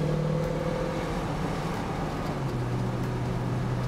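A 1966 Ford Mustang engine pulls steadily on a test drive, with a continuous loud, droning exhaust note and a low pitch that shifts slightly as it accelerates. No one speaks.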